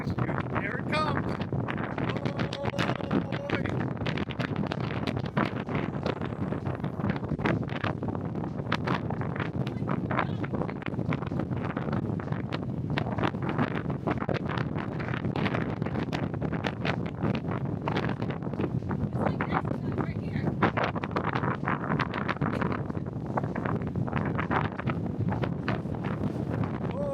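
Strong wind gusting across an open deck of the Sapphire Princess cruise ship at sea with a hurricane nearby, a loud, constant roar and buffeting rush battering the microphone without letup.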